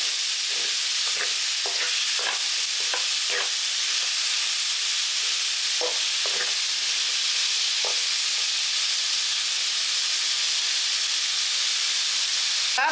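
Vegetables sauté over a low flame in a pan for lunch-box rice, giving a steady, loud sizzle and hiss with occasional soft scrapes and taps of stirring, no voices.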